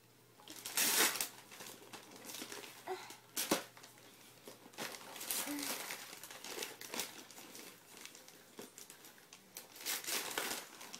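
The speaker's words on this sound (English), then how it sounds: "now it's opening this present" Wrapping paper on a present crinkles and tears as a child unwraps a gift at home, with bursts of crumpling and ripping that come in irregular waves, close and fairly loud, with no talking.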